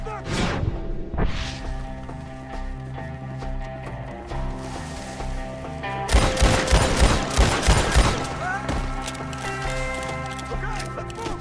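Gunfire in Red Dead Redemption 2 during a shootout with enemies up in trees, with bursts of shots, the densest volley midway, alongside horse hooves and whinnies and shouted talk.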